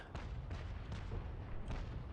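Cannon broadsides from sailing warships in the Naval Action game, with a series of four or five muffled distant booms rolling over a dense, continuous rumble of battle noise.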